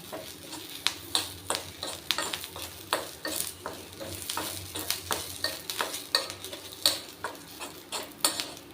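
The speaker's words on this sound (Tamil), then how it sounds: "இதோடையே கருகப்பிள்ளையும் போட்டு வறுத்துக்கலாம்" Garlic cloves and curry leaves dry-roast in a pan for garlic powder, a steady train of close scraping stir strokes and light crackles repeating about twice a second, with no talking.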